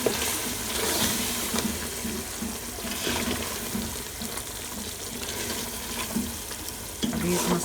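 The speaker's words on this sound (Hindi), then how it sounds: "अभी इस मसाले को हमने इसमें 2 दफ़ा अच्छी तरह मसाला मिला देना है और फिर अच्छी तरह इसे भूनना है" Mutton nihari masala fries and gets stirred in a pot, a quiet sizzle with scraping stirs and occasional louder clatters throughout, heard close up without talk.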